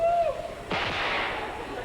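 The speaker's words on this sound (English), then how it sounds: "What do you think of these little firecrackers we just made?" A string of small homemade firecrackers goes off with a sharp burst that turns into a dense, sustained crackle, preceded by a short tonal voice.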